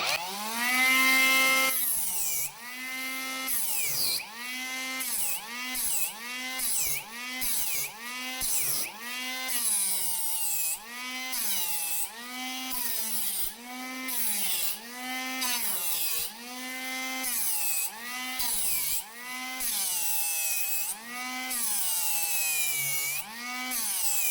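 A Leader 76 mm mini angle grinder with a grinding disc whines loudly and close by, its pitch repeatedly surging and dropping as it revs up and eases off.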